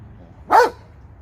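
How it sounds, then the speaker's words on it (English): A dog standing in a swimming pool gives a single sharp bark at the water, moderately loud against faint background noise. "He's barking at the water and he just won't get out."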